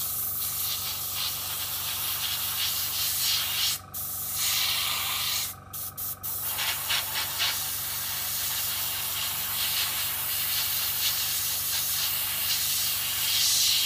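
An airbrush blows steady compressed air at about 25 psi to dry a layer of blue Vallejo model paint, a continuous close hiss with a few brief cutoffs where the trigger is released.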